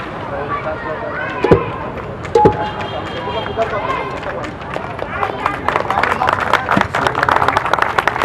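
An audience at a felicitation ceremony claps, starting as scattered claps among voices and a couple of sharp knocks, then swelling into dense, loud applause over the second half.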